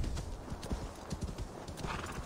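Steady clip-clop of a ridden horse's hooves in the video game Assassin's Creed Valhalla, a continuous even rhythm of close thuds over soft ambient game noise.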